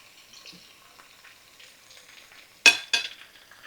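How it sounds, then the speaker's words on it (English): A butter and flour roux cooks in the pan used for Salisbury steak patties. A quiet faint hiss gives way to two sudden loud sizzling bursts close together near the end. "we're going to make us a roux in here"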